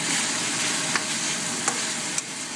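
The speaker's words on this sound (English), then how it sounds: "Stir frying it around." Leafy vegetables stir-fried in a hot pan for teriyaki chicken give a steady close sizzle, with a few brief scraping stirs cutting through the frying hiss.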